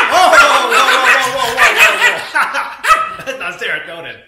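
A dog barks and yips excitedly in rapid, uneven bursts, close and loud, with a few whimpering notes in between, while a person speaks over it.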